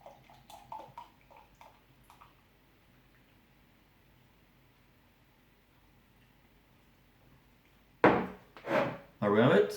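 Wildbräu Helles lager from Grafing bei München poured into a glass: a few soft clicks and taps, a quiet lull, then loud gurgling, splashing bursts of liquid close by at the end.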